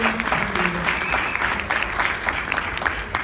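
Applause from a conference audience at a Latin American and Caribbean drug policy meeting: a fairly soft, continuous patter of many hands clapping, with faint voices underneath throughout.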